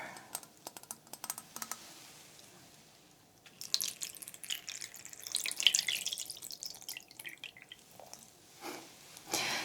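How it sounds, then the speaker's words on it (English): Water poured into a teacup for afternoon tea, a soft trickling that rises in the middle of the stretch and returns near the end, with light clinks and taps around it and no talking. "I shall pour the water."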